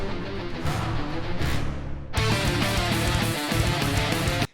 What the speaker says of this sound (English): You can hear that like men's choir in the background chanting.